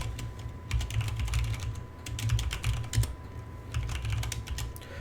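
Computer keyboard typing while writing code: quiet, irregular bursts of key clicks close by, with short pauses between runs and no talk.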